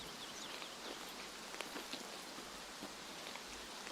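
Rain patters steadily across the ground in the Escape From Tarkov game world, a dense hiss sprinkled with sharper individual drop ticks and no voices.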